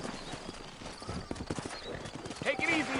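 Horses trot with brisk, close hoof clip-clops in the western video game Red Dead Redemption, and a short whinny breaks in near the end. Someone speaks over the hoofbeats.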